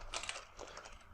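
A few faint, quick keystrokes on a computer keyboard, soft and close, clicking in a loose, uneven rhythm over quiet room noise.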